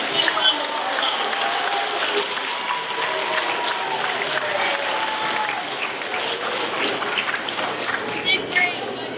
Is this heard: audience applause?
yes